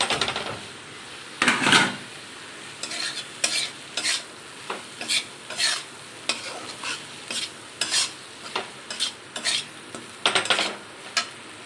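Egg Maggi noodles with scrambled egg and masala being stirred in a pan: close, irregular scrapes and clinks of a utensil against the pan, in short bursts with brief pauses, no voices.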